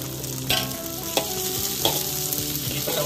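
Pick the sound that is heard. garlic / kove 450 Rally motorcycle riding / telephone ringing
garlic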